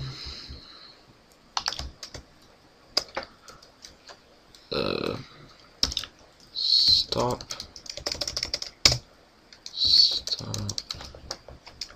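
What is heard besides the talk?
typing on a computer keyboard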